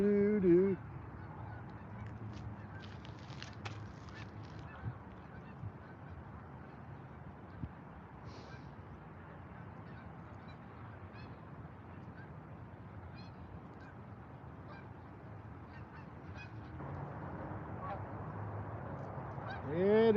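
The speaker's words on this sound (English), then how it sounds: "the geese, you better go south" Geese honking as they fly south over a trout stream in southeastern Minnesota, scattered distant calls in the open air over a low steady background rush.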